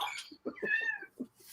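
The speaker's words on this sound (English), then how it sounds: "Hello, cat." A house cat meows several short times at close range, clear, quiet calls in a row with brief gaps between them.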